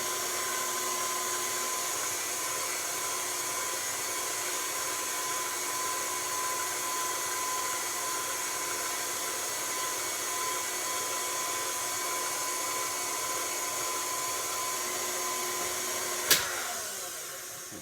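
An electric pasta machine rolls out a sheet of pasta dough for garganelli, giving a steady, close motor whine with a tonal hum that runs unbroken, then a brief click as it is switched off near the end, leaving the hum to fade.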